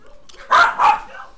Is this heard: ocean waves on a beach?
no